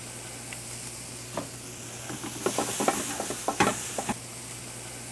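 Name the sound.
wrapping a BBQ rib in aluminium foil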